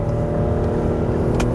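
Infiniti QX60 luxury three-row SUV accelerating in manual mode with paddle shifters, a steady engine drone heard from inside the cabin, continuous and moderately loud with a brief higher whine near the end.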